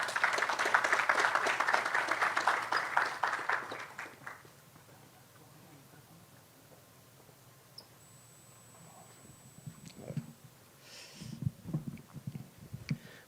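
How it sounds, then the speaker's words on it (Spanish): An audience at a talk on robotics in Peru gives a burst of dense applause to welcome a speaker, lasting about four seconds, followed by near silence and a few faint sounds at the end. "Lo recibimos con un fuerte aplauso."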